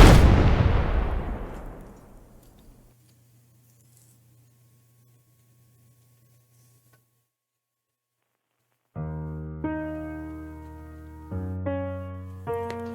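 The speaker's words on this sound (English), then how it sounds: "The explosion was so strong that its echo could be heard in Julio's reality" A huge explosion from a dying creature bursts loud and close, then rolls away into a long fading rumble that trails into near silence before a low musical drone swells in.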